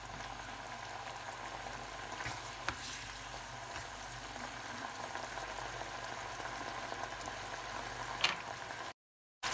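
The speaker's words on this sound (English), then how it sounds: "now you can see the meat is really frying in there" Meat frying in a pan with curry sauce, a steady broadband sizzle and bubbling held at an even level throughout, with a few faint clinks and no talk.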